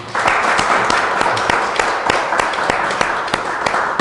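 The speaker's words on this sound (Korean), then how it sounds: "저 뒤에 계신데 우리 박수 한번 크게 해드리세요." Church congregation applauding a returning Methodist minister during a Sunday worship service, a dense steady wash of clapping with some sharper individual claps standing out, filling the room near and loud throughout.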